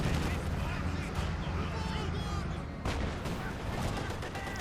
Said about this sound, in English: More Panzer there. Panzer fires as well.